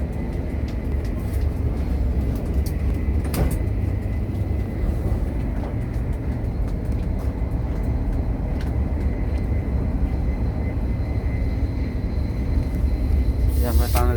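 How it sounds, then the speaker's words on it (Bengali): Inside a moving train, between two carriages, a steady loud rumble and roar of rolling wheels carries on throughout with a few metallic clanks. "ট্রেনের ভিতরে আমি 2 বগির মাঝখানে আছি।"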